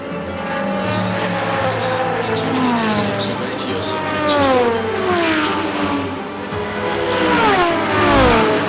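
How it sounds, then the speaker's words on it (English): Race cars roar past one after another at the Petit Le Mans endurance race, engines rising and falling in pitch as they approach and fade, loud and continuous. "the race cars keep coming by"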